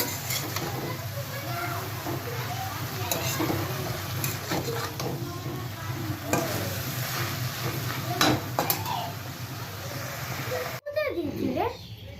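Leafy greens (shak) frying in a pan give off a steady, close sizzle with occasional stirring clatter, while children and adults talk in the background throughout.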